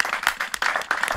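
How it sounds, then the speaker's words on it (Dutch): A group applauds in a short burst at a Frisian television gathering, brisk overlapping claps close by, lively and uneven over about a second. "applaus"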